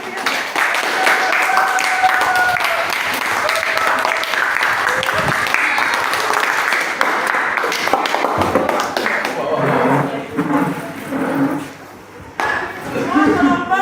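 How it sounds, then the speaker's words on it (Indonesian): Classroom of students applauding after a group presentation, a dense, loud clatter of many hands sustained for several seconds, with voices mixing in as it thins toward the end. "Berikan tepuk tangan yang meriah."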